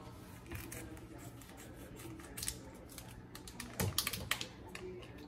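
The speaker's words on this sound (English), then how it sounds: "So we are going to cut the cheese." Knife slicing cheese for lasagna on a cutting surface, faint quick clicking taps and soft cuts in an irregular close rhythm, a little busier toward the end.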